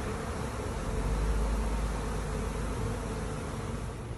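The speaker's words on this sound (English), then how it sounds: "it's not a lot of comb, but there's a lot of bees" A dense swarm of honeybees hums steadily around their queen and a small piece of comb, a close, continuous buzzing drone that holds level throughout with no voices.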